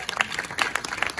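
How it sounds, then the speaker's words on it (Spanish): Applause from an audience at a Mexican press conference for the cast of the film Malverde, a brief burst of dense clapping at close range. "¡Aplausos, por favor!"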